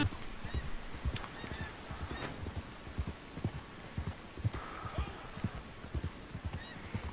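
Geese in Red Dead Redemption 2 honk repeatedly in short bursts, mixed with the clip-clop of horse hooves and an occasional whinny, all at moderate volume across a busy in-game outdoor scene.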